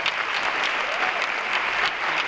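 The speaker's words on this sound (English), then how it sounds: "Give them a round of applause." Audience applause at a school consortium awards ceremony, a short burst of steady clapping from a modest crowd, even and moderately loud with no pauses.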